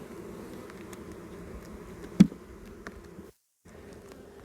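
Honeybees buzz in an open hive during an inspection, a steady close drone with a brief loud knock partway through and a short dropout near the end.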